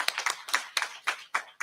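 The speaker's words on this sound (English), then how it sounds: "huge round of applause" Applause from a community climate summit audience, bursts of hand clapping rising and falling in about six uneven swells, fairly close and lively, with no speech over it.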